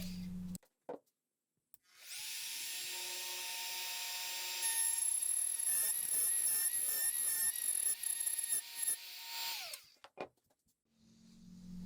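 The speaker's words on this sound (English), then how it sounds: "I proceed to route out the dados with a 1/4 inch straight bit" A router with a 1/4 inch straight bit cuts dados in wood, spinning up to a loud, steady high whine, chattering unevenly as it bites through the cut, then winding down.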